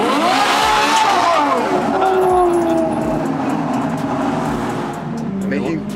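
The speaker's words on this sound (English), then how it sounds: "That exhaust is just another level." A loud performance car exhaust revs repeatedly on a street in Van Nuys, with several sharp throttle blips and a rising, falling engine note close by, while voices and street noise sit underneath.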